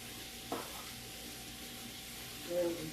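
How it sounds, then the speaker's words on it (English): Beef and vegetable stir fry sizzles in a fryer at low volume, with a steady frying hiss, a brief clatter as food is added early on, and a louder burst near the end. "add that into our fryer. Like so. So it's sizzling."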